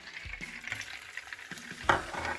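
Garlic and onion hit a hot frying pan for garlic shrimp, giving a soft steady sizzle with a few stirring scrapes and one louder burst near the end, no voices.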